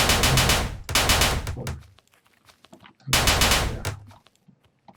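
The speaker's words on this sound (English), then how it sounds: "Firearms are really good, but they make a lot of noise" Loud rapid-fire automatic gunfire in the video game DUST: The Abandoned Land, in two long bursts separated by a brief gap filled with fading echoes and scattered clatter.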